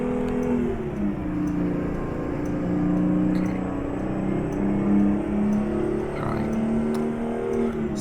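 A Detroit Diesel 6V92 two-stroke V6 truck engine of 322 horsepower labours up a snowy gradient at the governor in American Truck Simulator, a loud, steady, droning roar with strong harmonic tones that waver slightly and never let up.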